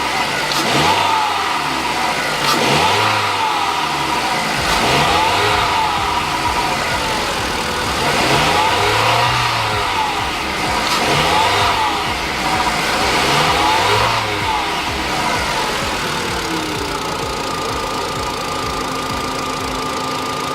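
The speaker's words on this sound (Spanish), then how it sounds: "Vamos a acelerar." A car engine revved repeatedly in a workshop, each blip rising and falling in a series of about six regular surges over a steady idle, close up, with someone speaking over parts of it.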